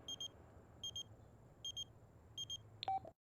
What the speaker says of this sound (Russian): Опять звонит.